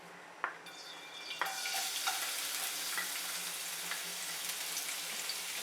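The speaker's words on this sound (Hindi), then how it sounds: "इसको हल्का सा फ्राई करेंगे।" Crushed garlic fries in two to three tablespoons of oil in a kadhai, giving a steady, close sizzle with soft crackles and a few sharper pops throughout.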